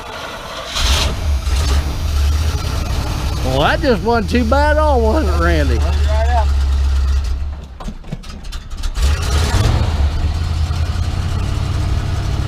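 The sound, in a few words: 1988 Chevy Custom Deluxe 30 truck engine cold start and idling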